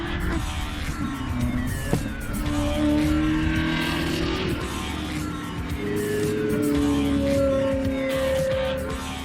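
A 20-year-old, 400 hp windshieldless barchetta roars loud and close from the cockpit, engine note rising and falling through gear changes with a sharp knock near two seconds and some tire squeal.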